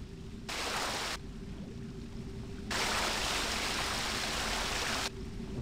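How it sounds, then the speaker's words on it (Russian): A waterfall in the video game Thief: The Dark Project gives a steady broadband rush of falling water. It swells louder and quieter in abrupt steps, as if the listener moves nearer and farther, with no talk. "Водопад какой-то."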